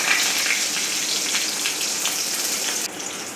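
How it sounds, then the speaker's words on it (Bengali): Cumin, bay leaf, whole garam masala and green chilli crackle in hot oil after the potatoes are fried, a loud, dense, steady hiss that drops slightly near the end. "আলু ভাজা হয়ে গেলে সামান্য একটু জিরে ফোড়ন, তেজপাতা, গোটা গরম মশলা, কাঁচা লঙ্কা ফোড়ন দিয়ে"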